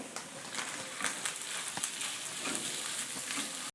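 Spiced potato filling sizzles and fries steadily in a pan, a dense close crackle with scattered sharper pops and stirring clicks, no voices.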